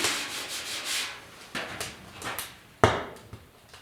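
Coarse 40-grit sanding on the cab bodywork of a 1972 Ford F100 4x4 makes a series of raspy strokes in uneven bursts, close and moderately loud, with a sharper knock near the end.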